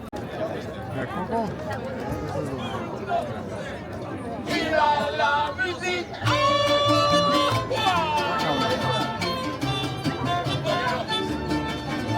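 Visitors crowd Disneyland Paris with steady mixed chatter and bustle, joined by bright music that swells from the middle onward and stays loud and continuous.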